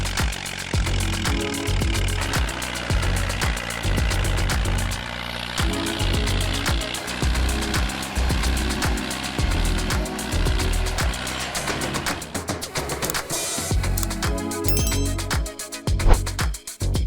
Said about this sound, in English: The 65 horsepower engine roared steadily.